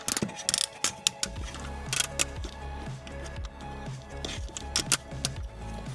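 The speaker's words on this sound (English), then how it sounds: "As you can hear, these are all ratchets, so it's pretty decent." Ratcheting joints click on a Mecha Invasion Scrapper/Mixmaster transforming toy figure, a close, dry series of rapid ratchet clicks in short bursts, interspersed with light plastic handling knocks and no speech.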